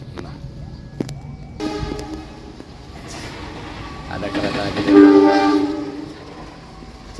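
An HO scale Argo Dwipangga model train set sounds its horn, a tonal blast rising near the end, after mechanical clicks and a short spoken phrase in Indonesian.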